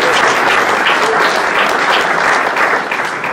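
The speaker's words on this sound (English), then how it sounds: "Now you clap." Steady, loud applause fills the room as an indoor audience at a game developers' chapter meetup in Toronto claps continuously for a few seconds, close and dense with no voices on top.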